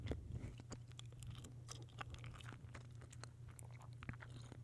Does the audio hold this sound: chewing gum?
yes